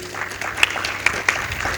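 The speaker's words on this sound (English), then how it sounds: "I think it's a time we can clap for our panelists." Audience at an energy expo panel discussion claps for the panelists, a steady patter of applause throughout with a few sharper claps standing out.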